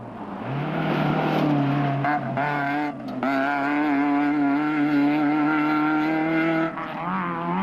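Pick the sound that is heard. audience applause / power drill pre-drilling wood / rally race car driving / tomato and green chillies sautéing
rally race car driving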